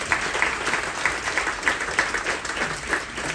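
A crowd at a military appreciation event aboard a Carnival cruise ship claps in steady, dense applause for the Space Force, a continuous roar of many hands with no voices standing out.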